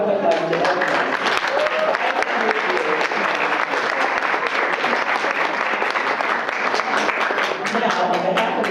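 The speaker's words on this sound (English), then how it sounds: "let's all give us a round of applause to everyone" An audience claps for faculty service award winners, a steady, dense round of applause that stays loud and even throughout, with crowd noise mixed in.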